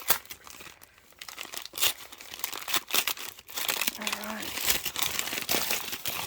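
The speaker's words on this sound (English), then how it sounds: "Sorry about the rustling." Packaging for a craft advent calendar of clay pieces crinkles and crumples up close in bursts, with a person speaking briefly over the handling noise.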